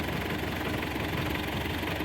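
An MTZ-80 tractor engine runs steadily while plowing a field with a two-furrow plough, a loud, close, continuous diesel drone with a rapid knocking pulse and no talk.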